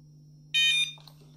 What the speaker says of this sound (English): hold down power and I'll get a couple of confirming beeps